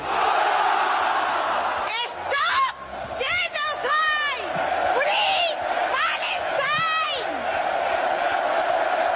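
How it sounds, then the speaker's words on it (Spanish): Thousands of people at a rally in Pamplona, Spain, chant "Stop Genocide, Free Palestine" in loud, rhythmic bursts of massed voices, with shouts and cheers rising over a constant roaring crowd. "Miles de personas aclamando el grito Stop Genocide, Free Palestine, que se detenga el genocidio, Palestina libre."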